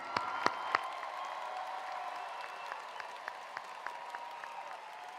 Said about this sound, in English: I was a little disappointed in the applause for our graduates